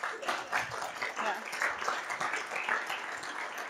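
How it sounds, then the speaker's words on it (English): An audience applauds after a talk at a tech meetup, a steady spread of many hands clapping together, moderately loud and sustained throughout. "Oh, you can clap."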